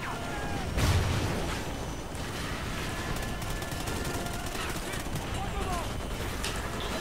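Honey Badger rifle fire in the Call of Duty Ghosts campaign: a loud burst early on, then sustained crackling gunfire and battle noise throughout.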